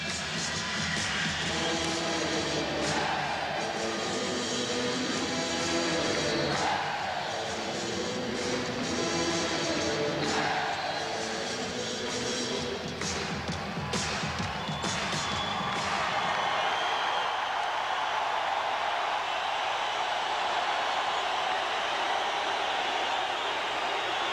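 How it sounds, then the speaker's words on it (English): A packed Chicago Stadium crowd at a 1990 NBA playoff basketball game, with loud, continuous roaring, stomping and clapping that fills the arena, the rhythmic clapping thinning out into a broad crowd roar. "Chicago on a run, and their fans are up and stomping and clapping"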